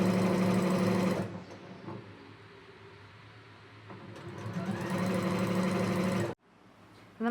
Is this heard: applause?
no